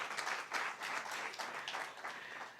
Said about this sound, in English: Give us a clap.